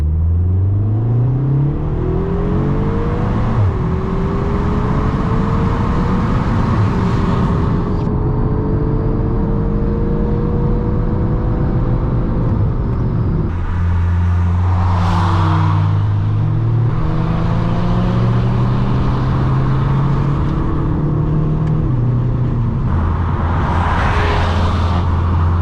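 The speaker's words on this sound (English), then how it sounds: "Let's see how they sound from inside the car." Heard from inside a car with newly fitted exhausts, a steady engine drone climbs through the gears with rising pitch, drops on each shift and carries on over loud road and wind noise, with no talking.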